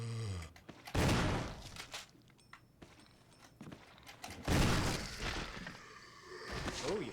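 Shotgun blasts in the Resident Evil HD Remastered game, two loud booming shots a few seconds apart, each followed by a scattering, shattering tail, mixed with footsteps and other game noises.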